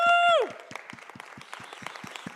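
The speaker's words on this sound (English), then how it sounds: "please join me in giving Beth one more big round of applause" A crowd applauds with steady clapping after a brief loud tone, the clapping continuing evenly throughout.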